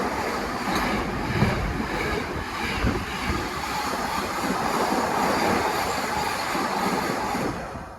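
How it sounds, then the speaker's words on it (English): A diesel freight train, locomotive 88009, rumbles past close by, a loud, continuous roar with rhythmic clatter of wagons on the rails throughout. "here's a diverted freight train from Daventry DOS to Trafford Park"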